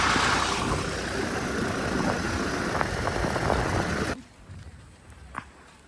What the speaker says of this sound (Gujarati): અમારે ટ્રેક્ટરમાં શેરગઢ જવાનું છે